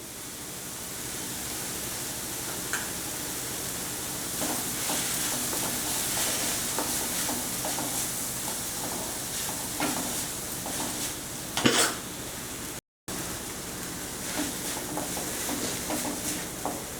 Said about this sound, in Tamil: பச்சை வடை போடுறதுக்காக தான் லேசாக வதக்குறோம்